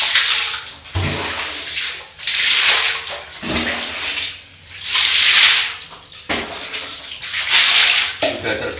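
Water poured over bathroom tiles to rinse off a scale-removing cleaner, loud splashing gushes in repeated bursts with brief pauses between pours, close up.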